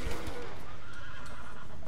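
A horse in the video game Red Dead Redemption Undead Nightmare gives a loud, close whinny that rises and trails off. Faint hoof clops sound underneath, and no one speaks.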